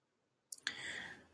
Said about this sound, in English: and click on view demo.